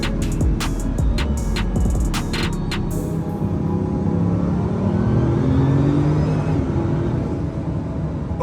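Car with a quad-turbo 8-liter W16 engine making 1,001 horsepower, a loud continuous engine roar and whir that holds steady, with a burst of sharper crackles near the start.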